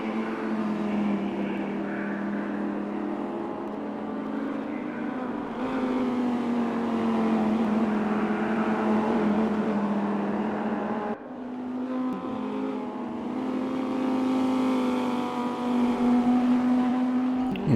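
An Audi race car in a racing video game at Silverstone, with a sustained engine drone that holds a steady pitch, drops off briefly as the car shifts, then climbs again, loud and continuous with no speech.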